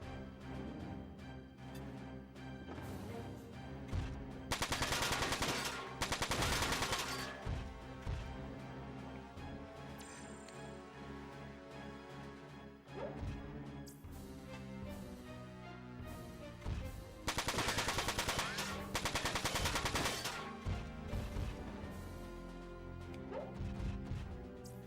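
Mech gunfire in the video game Front Mission 4: loud, dense bursts of rapid shots hit twice, each lasting a couple of seconds, over a steady backdrop of game music and effects.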